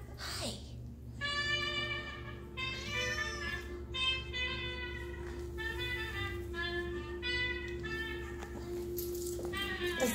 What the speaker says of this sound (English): That's the biggest cat I've ever seen in my life